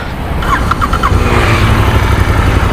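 A Royal Enfield Continental GT 650 motorcycle starter chirps briefly, then the engine catches and settles into a steady, close, low rumble.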